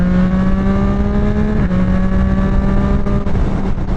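A 2024 Yamaha MT-09 SP motorcycle engine pulls hard through an overtake, a loud, close, rising drone with a brief dip near the midpoint before it climbs again.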